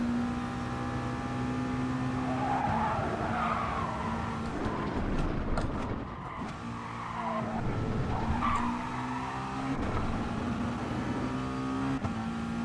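Tyres squeal and skid as a race car brakes hard into a chicane in GT Sport, the engine note dropping and rising again through the corner, with a second screeching slide later over a steady engine drone.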